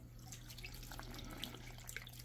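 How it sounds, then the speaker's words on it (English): Water pours faintly into a crock pot holding frozen cooked ham with bones and fat, a soft, low trickle and splash under a steady background hum. "Add some water."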